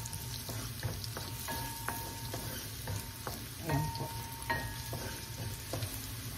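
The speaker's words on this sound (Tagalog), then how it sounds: "hain po natin ang bawang" Garlic sizzles and crackles in hot oil in a pan as the base for beef pares, with steady frying noise, intermittent stirring scrapes and no talking.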